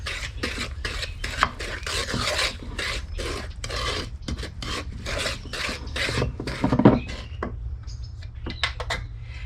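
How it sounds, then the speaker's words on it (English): A spoon stirs ingredients for a strawberry shortcake batter in a bowl, making repeated scraping and clinking strokes in a quick irregular rhythm, close and fairly loud, with a low steady hum underneath. "take our spoon and we're going to stir that in with it"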